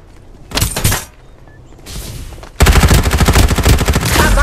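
Gunfire in the Farlight 84 battle royale game played on an iPad mini 6: two short bursts, then a loud, sustained rapid-fire automatic volley close up, with no talk.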